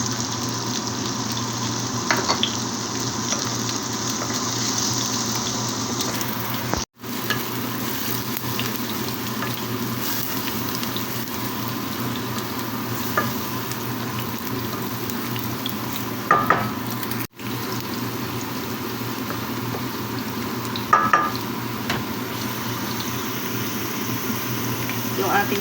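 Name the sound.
tomato paste frying and being stirred in a pan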